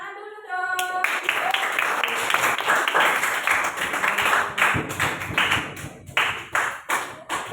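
An audience claps hands in a classroom or school setting, a dense run of sharp, uneven claps that starts abruptly and carries on steadily, with voices mixed in underneath.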